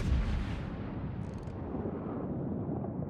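Battleship Texas fires its main guns in World of Warships: a loud, heavy boom opens, then a long rolling rumble carries on without pause.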